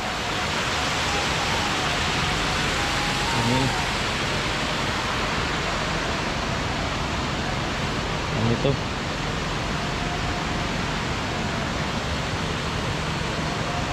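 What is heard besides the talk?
small stream flowing beside a road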